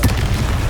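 Confringo fire-blast spell in Hogwarts Legacy, a single short, heavy boom bursting loud and close, then fading quickly within a second.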